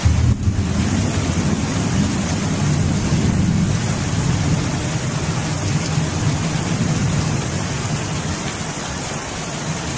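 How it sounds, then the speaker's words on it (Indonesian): Steady, loud rain pours outdoors under an overcast sky, a dense continuous hiss with low rumbling wash, no voices, holding evenly throughout. "Nah, hujan."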